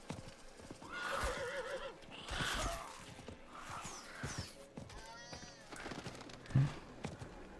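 A horse whinnies and snorts amid hoof clatter and other sound effects in the video game Diablo IV, with no talking.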